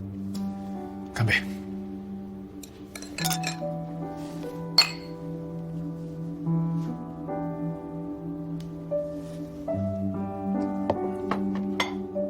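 Glasses clink together for a toast, giving a few bright, ringing chinks. The clinks sit over sustained background music, with some talk nearby.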